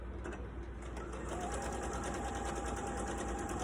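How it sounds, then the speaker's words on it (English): A sewing machine runs steadily while stitching a small scrap piece onto the edge of a string quilt, a continuous close whirring hum with no talk over it. "We've got one little piece we've got to sew on here. So we're gonna start right here."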